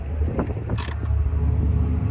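A washer being tightened on a mechanical fitting gives short creaking, ratcheting turns, with a bright scrape partway through over a steady low background hum.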